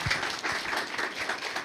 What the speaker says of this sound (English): So just a big round of applause to our panel.